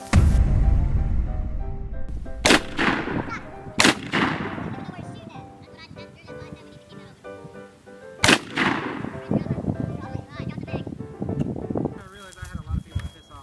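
Loud AK rifle gunfire aimed at a microwave outdoors, with several sharp, isolated shots spaced a few seconds apart over a busy background of voices and rustling.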